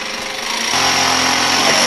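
A power drill runs continuously and loudly, its whine steadying and growing stronger after a brief start, as the bit gets stuck while someone works nearby in a reptile zoo.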